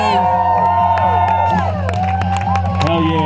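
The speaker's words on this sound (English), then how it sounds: "Crowd, make some noise." A crowd at a breakdance battle cheers, whoops and claps over loud music, with lively shouts scattered throughout.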